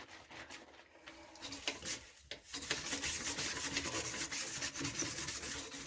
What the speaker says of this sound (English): You don't need any kind of fancy scrubber or anything to be able to go ahead and actually scrub your toilet.